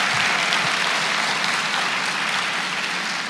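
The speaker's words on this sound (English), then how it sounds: "that deserves applause" Audience applause rises at a climate change discussion event in Miami, a thick, even roar of clapping from a large crowd that stays steady throughout the short stretch.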